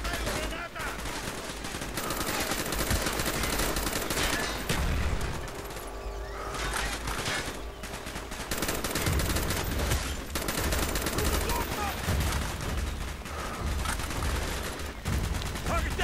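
Gunfire from the Call of Duty: Black Ops video game, including shotgun blasts, in rapid repeated bursts throughout, loud and dense, with game effects and occasional talk mixed underneath.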